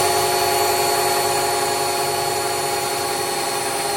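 A drill bores holes in metal during wiring cleanup on a 1966 Ford Mustang, giving a steady, loud, unbroken whine that holds evenly from start to finish with no talking.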